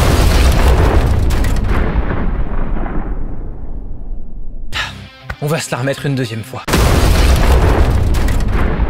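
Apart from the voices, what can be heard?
movie-style explosion visual effect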